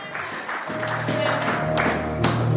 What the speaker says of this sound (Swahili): Hebu makofi kwa ajili yake